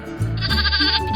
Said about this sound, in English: The Shropshire Sheep.